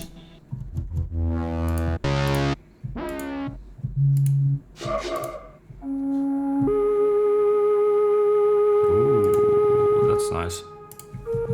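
A synthesizer plays short tones and swooping notes, then settles into a sustained lead melody with bright harmonic tones, loud and close.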